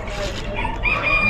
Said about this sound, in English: They're still cool chickens, though.